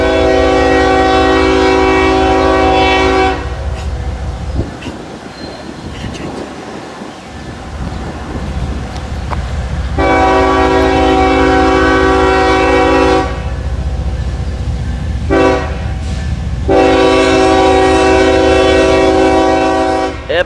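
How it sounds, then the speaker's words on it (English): A southbound freight train led by the B&O heritage locomotive 1827 blasts its multi-chime horn at a crossing, sounding three loud long blasts over the continuous heavy rumble of the passing train, heard from close by. "M559 is a Willard to Cincinnati train. What leading it is the B&O Heritage Locomotive 1827 heading southbound."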